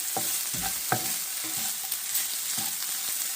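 Green chilies stirred and frying in a pan while cooking a leftover brisket breakfast burrito in Mexico, a steady close sizzle broken by several scraping stir strokes of a utensil, with no talking.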